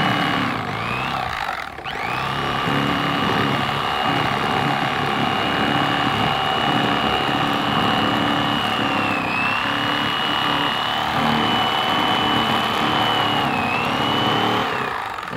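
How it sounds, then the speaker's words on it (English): An electric fillet knife whirs with a steady motorized buzz as it slices through a crappie fillet, holding a constant pitch throughout with a brief dip near the start. "you're gonna turn your fillet knife and have it completely flat"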